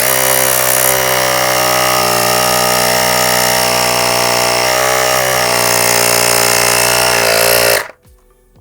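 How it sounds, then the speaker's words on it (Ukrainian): Strong, steady air flow from the built-in pump of an Aspiring Jump 3 JM8000PIWC jump-starter booster, a loud continuous whirring hum that holds for about eight seconds and then cuts off abruptly. "Давайте ще раз спробуємо оцінити, наскільки потужний потік повітря"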